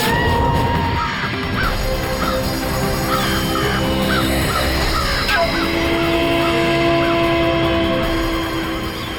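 Many crows caw repeatedly at a gathering of birds in a Krishna Leela drama scene, a steady run of harsh calls over a loud, dense ambient bed.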